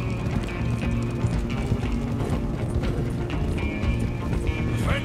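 Horse hooves clip-clop steadily on a ridden horse in Red Dead Redemption 2, a continuous rhythmic trot under dense game ambience with other layered sounds.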